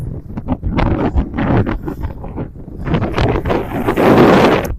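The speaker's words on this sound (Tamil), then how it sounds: "காற்று அதிகமா இருக்கு" Strong wind buffets the microphone at sea among mountainous islands far offshore, a loud, continuous roar with gusty bursts that swells toward the end, with no voices.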